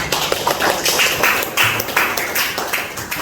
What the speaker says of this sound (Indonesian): Berikan tepuk tangan dulu untuk Alia.